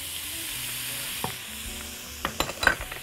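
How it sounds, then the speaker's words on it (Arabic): Onions frying with meat in oil spiced with cumin seeds, bay leaf and cardamom, a steady close sizzle broken by several sharp scraping stirs toward the end, no speech. "وأقلب تاني لحد هي بقى ما تاخد اللون اللي انا عايزاه"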